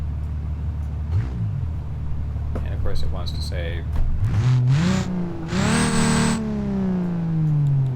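Diesel Cummins inline-6 truck engine in BeamNG.drive idling, then revving up in rising surges and settling into a falling drone, with someone briefly talking over it.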